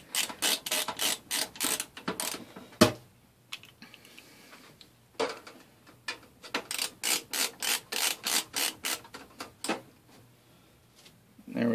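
Hard drives being screwed into a PC case during a lab build, quick bursts of close ratcheting clicks from the screwdriver coming in runs with short pauses between them.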